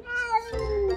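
An angry cat gives a loud, close meow that rises and then drops into a harsher, lower yowl, about a second long with no one talking over it.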